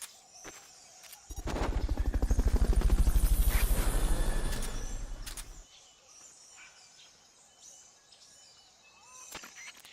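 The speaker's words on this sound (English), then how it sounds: "Fulton recovery subject confirmed onboard helicopter" A helicopter in Metal Gear Solid: Peace Walker passes close with loud, rapid rotor thumping that swells and fades over several seconds, framed by quieter game ambience with bird calls and faint clicks.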